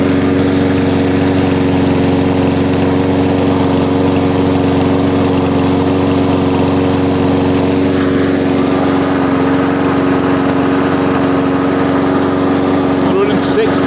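A petrol lawnmower engine drones steadily and loudly up close, a constant mechanical hum with no pauses.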